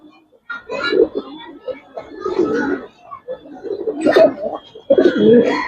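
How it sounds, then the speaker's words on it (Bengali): A female Giribaz pigeon, a large coloring bird, coos in repeated bursts up close while someone speaks between and over her calls. "এটা মাদি ডাকতেছে"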